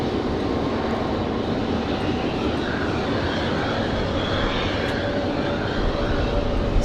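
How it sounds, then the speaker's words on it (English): A Boeing 777 airliner taxiing at Raleigh-Durham International Airport, its jet engines making a steady, loud, broad roar that holds constant throughout. "now the 777 is making its way back this way."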